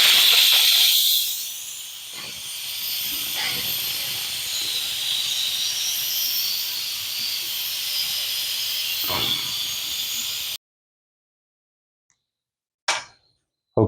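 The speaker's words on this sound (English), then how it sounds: "it's time to do a pressure release" Steam hisses loudly and steadily from an Instant Pot's pressure release valve while making a pot roast, a continuous rushing blast lasting about ten seconds before cutting off abruptly, followed by silence and a couple of faint clicks.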